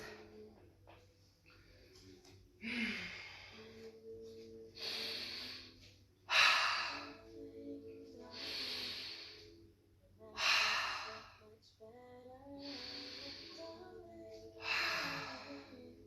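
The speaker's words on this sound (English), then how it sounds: "Maybe letting a few of your exhales out through the mouth." Slow, audible exhales out through the mouth during a yoga flow, several long soft breaths at a steady relaxed pace, close and fairly quiet.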